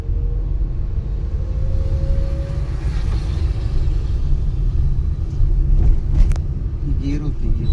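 An automatic car's engine gives a continuous low rumble that swells slightly as the driver accelerates, heard from inside the cabin while people talk.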